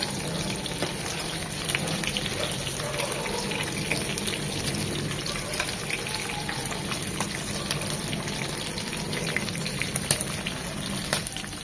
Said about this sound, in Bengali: ওই পাশটা এরকম 3 মিনিট ভেজে নেব।